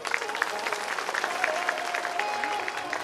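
Crowd applause at a Shrimad Bhagwat Katha religious gathering, a dense, continuous patter of many hands clapping together for about three seconds, fairly close and steady throughout.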